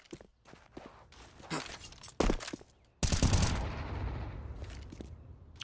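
Counter-Strike match gunfire in a European Pro League game: bursts of rapid rifle shots, footsteps and a loud sustained volley, close and sharp, mostly without talking.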